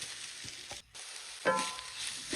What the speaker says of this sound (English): Saute the ginger and garlic here.